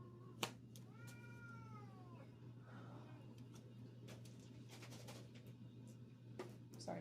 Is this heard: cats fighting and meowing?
yes